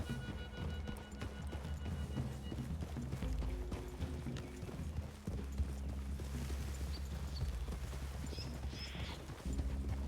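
Horses walking in the video game Red Dead Redemption 2, with a steady run of hoof clip-clops on forest ground and tack creaking, close by under the game's ambient background.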